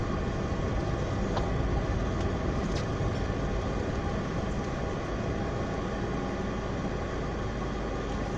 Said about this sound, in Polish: No to w ruchu samochód